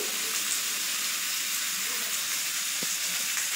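Spices for an olive (jolpai) pickle are stirred in a pan of hot oil, giving a dense continuous hiss and sizzle with faint stirring scrapes.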